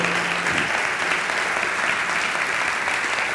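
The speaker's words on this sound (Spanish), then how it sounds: "Denle un aplauso al Rey." Congregation applause in a church service, a loud, continuous wash of many hands clapping together with no breaks.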